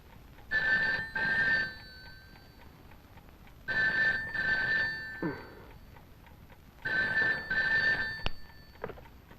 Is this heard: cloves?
no